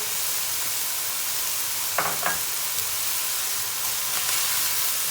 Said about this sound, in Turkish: Bunu güzelce bir kavuracağız.